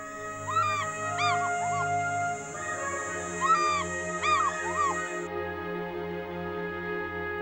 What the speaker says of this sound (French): C'est à son cri si fort, si clair, que le pigargue vocifère doit son nom.